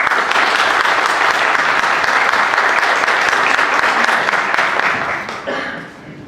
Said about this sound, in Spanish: le pido un aplauso para la profesora Colette Spinetti